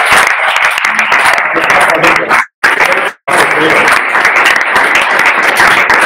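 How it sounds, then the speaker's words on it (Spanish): Audience applause at a congress of religious brotherhoods and popular piety: dense, steady clapping from a crowd fills the room at close range, broken by two brief silent cuts before resuming just as strong. "Yo creo que se merecen un aplauso"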